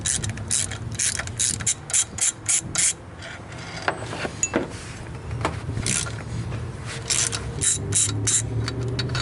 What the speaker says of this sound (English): Now remove these 3 15mm bolts that hold this alternator bracket to the head.